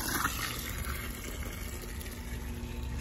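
Water runs steadily into an EVE grow tower, a continuous close gush with a faint pump-like hum underneath and no talking.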